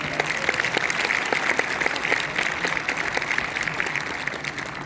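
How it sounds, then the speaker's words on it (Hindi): An audience at a large Hindi poetry gathering at Bharat Mandapam breaks into steady, dense applause, a continuous wash of many hands clapping at moderate loudness without voices. "आपकी जोरदार तालियां होनी चाहिए"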